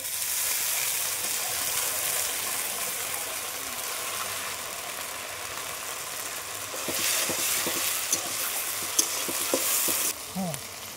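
Ginger garlic paste fries in a pan for egg devil with a steady loud sizzle, while stirring scrapes and clatters become more frequent and busier toward the end.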